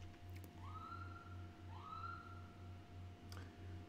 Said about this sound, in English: I think that was an ambulance, actually